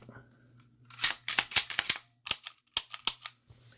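A Walther P99 AS 9mm pistol being handled and dry-fired, giving a quick run of sharp, close mechanical clicks and snaps in uneven clusters, with a low background hum and no voice.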